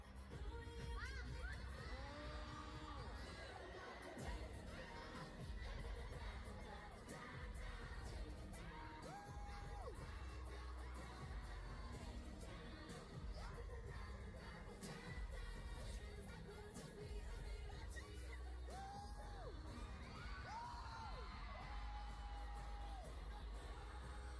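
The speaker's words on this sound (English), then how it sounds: "the crowd went crazy" Crowd at a K-pop debut concert erupts into continuous cheering, screams and whoops over loud amplified music, a dense, distant-sounding roar of fans with shouted voices rising and falling throughout.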